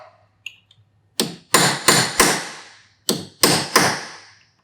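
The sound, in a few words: hammering a chisel on a motorcycle chain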